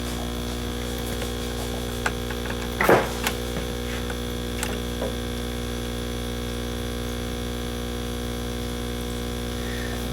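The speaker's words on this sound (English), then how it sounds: "This is the 4-inch air stone running off of our Eco Air 3 commercial pump." Eco Air 3 commercial air pump driving a single 4-inch round air stone, a steady loud electrical hum with constant bubbling hiss throughout, plus one brief knock near the middle.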